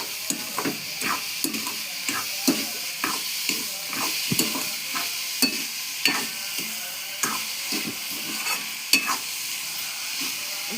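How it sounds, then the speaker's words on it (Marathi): Carrot halwa in a pan is stirred as sugar goes in, with a steady run of repeated spoon scrapes and soft frying sizzle. The close, rhythmic strokes continue throughout with no voices. "साखर जोपर्यंत पूर्णपणे त्याच्यात मिक्स नाही होत तोपर्यंत असं हलवत राहायचं"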